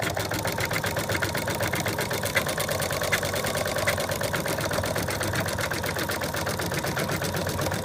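An embroidery machine stitches down applique fabric for an in-the-hoop dog design, giving off a loud, fast, evenly pulsing mechanical hum that runs steadily throughout.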